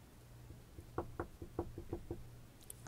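Knocking on a door, a series of about seven sharp raps in an irregular rhythm, fairly close and moderately loud, with no voices during the knocks.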